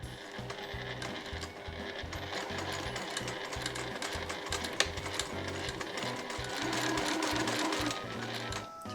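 A sewing machine runs steadily, stitching a seam along the cut edge of Marimekko cotton fabric for a gathered skirt, with an even rapid needle rhythm close by and a slight speed-up near the end.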